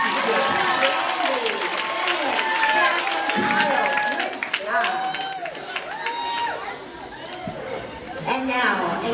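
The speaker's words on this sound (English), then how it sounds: "They deserve a great big round of applause." Audience applause and cheering for four kids at a live science show, a loud, steady crowd noise mixed with shouts and whoops that runs throughout, with voices calling out above it.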